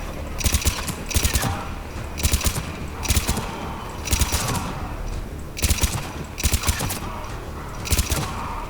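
Gunfire in Mass Effect 3 comes as short rapid bursts, about ten of them at roughly even intervals, each a quick cluster of cracking shots over a low rumbling background.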